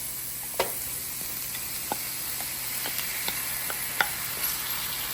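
Ginger, garlic and goat meat sautéing in a pan for a Sri Lankan goat curry: a continuous bright hiss and sizzle with a few soft stirring taps and scrapes, fairly close.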